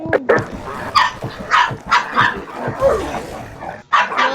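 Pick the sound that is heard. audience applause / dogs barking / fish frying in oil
dogs barking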